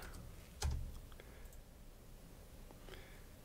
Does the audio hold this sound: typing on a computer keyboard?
yes